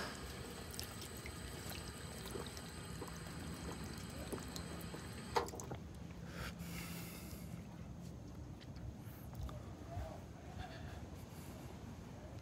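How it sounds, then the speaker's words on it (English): Water from an outdoor drinking fountain beside a beach walk runs and splashes steadily in a close, continuous wash, cutting out about halfway and leaving quieter open-air background. "I'm gonna hydrate while I'm right next to the water fountain"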